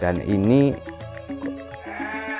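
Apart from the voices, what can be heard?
Dorper sheep bleating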